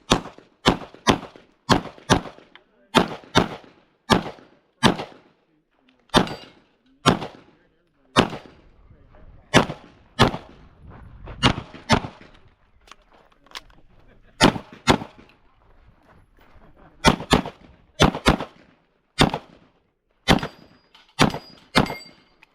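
Pistol gunfire on steel targets during a USPSA match, shot with an Archon Type B Gen 2: a rapid string of sharp, loud reports in quick pairs and bursts, with brief pauses and faint clangs and movement between groups.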